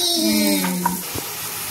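Turkey berries fry in a pan with a soft, steady sizzle, broken by a few light clinks of stirring and a faint tonal hum at the start.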